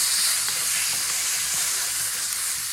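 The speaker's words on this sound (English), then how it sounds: "Give it a nice little sear just like that." Pork sears in butter in a hot pan, producing a loud, steady hiss and sizzle that runs unbroken for a few seconds with no voices.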